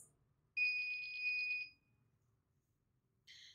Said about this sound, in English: every time the safety box detects my hand, the buzzer buzzes.